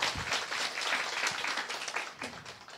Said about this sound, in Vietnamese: Chúng ta dành một tràng vỗ tay cảm ơn thầy đúng không ạ?